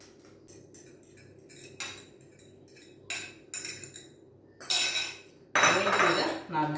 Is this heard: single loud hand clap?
no